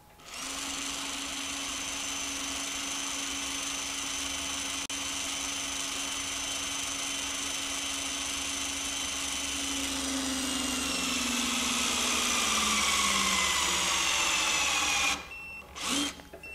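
A Hytorc hydraulic torque wrench tightens a bolt to 500 foot-pounds with a steady, close, whirring motor drone whose pitch slowly rises and shifts under load. It stops abruptly near the end, followed by a couple of short clicks.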